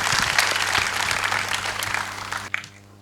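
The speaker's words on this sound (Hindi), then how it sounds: "मैं चाहूँगी मंच पर आएँ और ज़ोरदार तालियों के साथ उनका स्वागत हो" An audience applauds to welcome a guest official onto the stage at an event, steady dense clapping from many hands that cuts off abruptly near the end, leaving a low hum.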